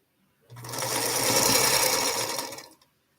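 A sewing machine stitches at a late-night quilting session, a single close steady mechanical whir that rises in over half a second, holds for about two seconds and then stops cleanly.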